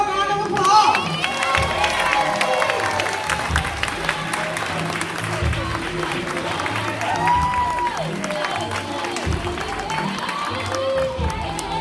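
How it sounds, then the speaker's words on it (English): An audience at a graduation fashion show applauds and cheers for a long stretch, a busy wash of clapping with scattered whoops and crowd voices mixed through it. "So give her a round of applause."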